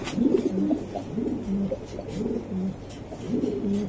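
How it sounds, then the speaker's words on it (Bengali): Racing pigeons coo in a repeated, rhythmic series of soft low throaty calls, close by and steady throughout with no talking over them. "আজকে কবুতর দেখাই দিব ভাই"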